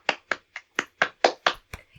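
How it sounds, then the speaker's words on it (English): Hands clap eight times at an even, brisk pace, crisp and close, with the last claps fading softer. "This deserves full-on clapping, because that was brilliant"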